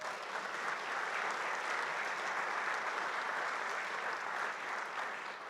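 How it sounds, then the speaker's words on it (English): A board member's introduction draws a steady wash of audience applause at a conference, even and sustained, with no speech over it. "let's give her a big clap"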